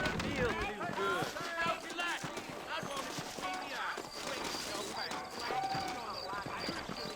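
Horses trot in the video game Red Dead Redemption, with rhythmic clip-clop hoofbeats running steadily under characters talking and game sound throughout.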